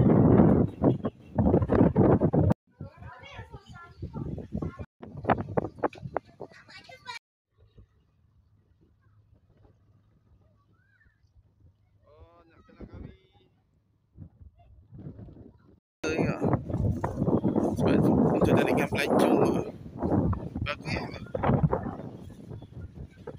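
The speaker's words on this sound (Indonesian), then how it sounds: "Oh, angin kuat." Strong wind gusts roar across the microphone on the Tuanku Syed Putra bridge in Kuala Perlis, loud at the start and again toward the end with a quieter stretch between, while a voice talks at times.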